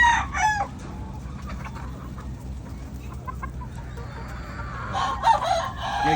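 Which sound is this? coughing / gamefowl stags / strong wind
gamefowl stags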